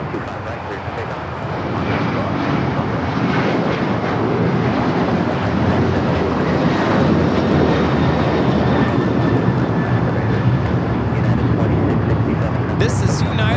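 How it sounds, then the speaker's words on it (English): A United Airlines Boeing 737-900ER takes off from Los Angeles LAX, its jet engines roaring steadily and close for the whole stretch, with someone talking over the noise. "This is United Airlines 2667 taking off to Washington Dulles on the 737-900ER"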